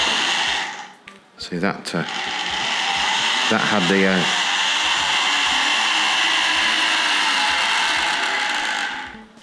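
A Tri-ang R.55 model diesel locomotive with two motors runs backwards, its small electric motor giving a continuous high-pitched whirring buzz. A few early clicks and a short spoken remark come first.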